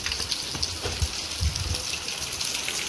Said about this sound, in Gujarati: તો આવો વરસાદ છે અત્યારે ચાલુ છે અમારે